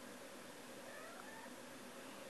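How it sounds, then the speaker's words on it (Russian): A cat meows faintly in the distance, one drawn-out plaintive call half buried beneath a steady hiss of background noise. "Возможно, слышно, как кот потерялся."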